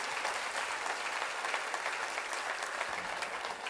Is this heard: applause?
yes